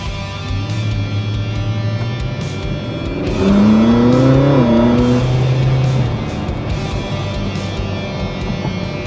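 A Ferrari 458 engine revs while driving, building to a louder, rising howl partway through before easing back to a steady cruise drone, heard close from inside the moving car.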